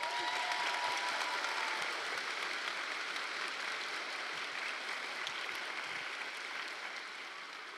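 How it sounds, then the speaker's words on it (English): A graduation crowd at a 2025 high school ceremony gives a long round of applause, a dense wash of clapping heard from a distance that stays fairly quiet and slowly tapers off. "So let's all take a moment to give them a well-deserved round of applause."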